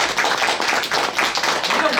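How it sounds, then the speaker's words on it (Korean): An audience at a Buddhist temple dharma talk claps steadily and loudly, a continuous patter of many hands close by. "그 박수를 쳐 박수."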